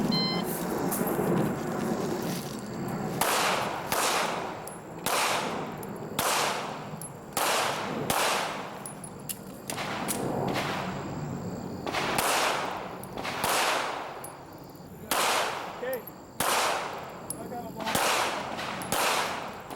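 Gunfire from a shooter running a stage at an IDPA pistol match at an outdoor club range, sharp loud reports in quick strings with brief pauses between bursts, about twenty shots over the stretch.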